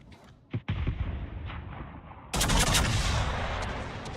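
Naval guns firing in World of Warships, a short sharp report and then a rumbling barrage, with a second, louder salvo bursting in midway and rolling on to the end.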